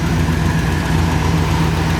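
A 1969 Jeep J-2000 Gladiator's V-8, fitted with Edelbrock valve covers and intake, idles with a loud, even, low rumble that holds steady throughout.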